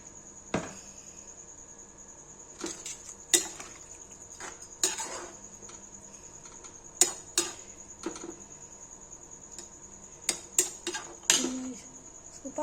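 Potatoes are dropped into a pot for Kashmiri yellow paneer, giving a string of sharp clinks and knocks spread unevenly across the stretch, over a quiet room with a thin, steady high whine.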